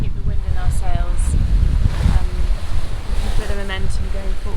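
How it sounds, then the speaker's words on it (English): Heavy ocean swell rolls past a yacht sailing on a broad reach in the Bahamas, with a steady loud rush of wind and water, waves sloshing against the hull, and a voice talking over it. "We've got a rather large swell coming on our sort of aft quarter / beam, so it's a bit rolly"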